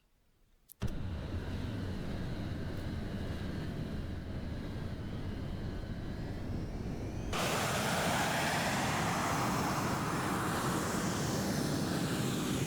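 Jet engines of a Boeing B-47 Stratojet in the P3Dv4 flight simulator kick in abruptly after near silence as a steady, loud whining roar, then swell partway through into a fuller, brighter roar that holds to the end.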